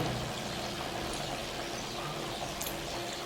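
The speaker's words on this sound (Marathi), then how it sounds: "पहा आता सुरुवातीला तेलाचे बुडबुडे किती जोरात येऊन राहिले" Methi namkeen dough frying in hot oil gives off a dense, continuous bubbling sizzle. It sounds close and steady, with no talking.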